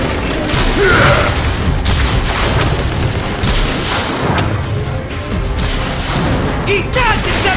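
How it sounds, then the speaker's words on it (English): Grenade explosions in a Transformers video game, loud booms and crashes in a dense, continuous battle din with scattered metallic impacts throughout. "Grenade, take cover!"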